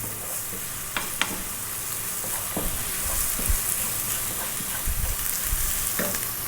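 Star anise and chili flakes sizzle and crackle steadily in a hot pan over high heat, with occasional stirring clinks and scrapes and no talk.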